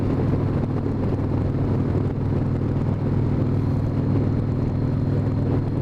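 A 1997 Harley-Davidson Wide Glide motorcycle rides over a broken, rough road, heard as a constant loud rumble of engine and heavy wind buffeting with no letup.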